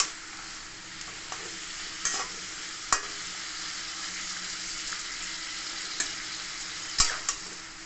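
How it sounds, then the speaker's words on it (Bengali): Potatoes fry with chicken in a stew pot, making a constant soft sizzle broken by occasional sharp scrapes and knocks of a spoon stirring against the pan, with no one speaking. "আলুটা দিয়ে ভাজবো।"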